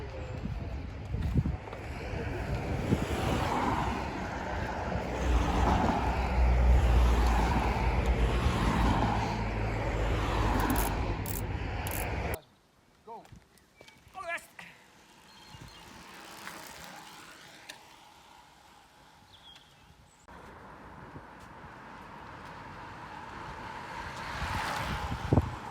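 Strong wind buffeting the microphone while cycling up the Alpe d'Huez climb, a loud roaring rush for the first half, then quieter gusts and road noise, with the roar returning at the end.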